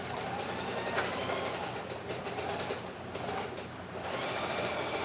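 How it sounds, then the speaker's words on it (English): A sewing machine runs steadily, stitching up darts in a hairing and painting craft project, its continuous close mechanical whir holding throughout with slight dips in pace. "let's just see what sewing this up does"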